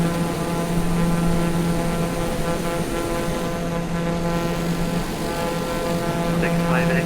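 A TBM 850 turboprop engine drones steadily in a flight simulator, a loud continuous hum with a strong low tone that stays constant throughout, with no pauses or changes.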